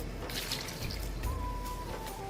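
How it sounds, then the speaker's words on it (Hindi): Half a glass of water is poured into a tomato, chili and garlic sauce base, a continuous splashing liquid pour with a dripping, tap-like quality over steady background noise, no talking. "अब इसमें आधा गिलास पानी का शामिल करूंगा मैं।"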